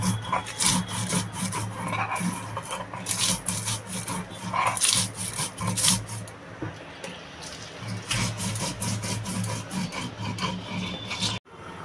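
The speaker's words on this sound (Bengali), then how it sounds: "আমি মশলাটা একটু জল দিয়ে বেটে নেব, তেজপাতাটাও বেটে নেব" Fried spices and bay leaf are ground with a little water into a paste, heard as loud, close, rhythmic rasping strokes of stone rubbing on stone that carry on steadily before stopping abruptly.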